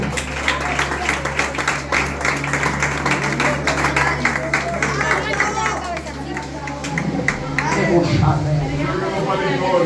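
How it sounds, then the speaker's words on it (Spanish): A church congregation breaks into sustained applause for the Lord, a dense wash of clapping under steady music and a preacher's voice, swelling near the end. "Suéltale un aplauso al Señor"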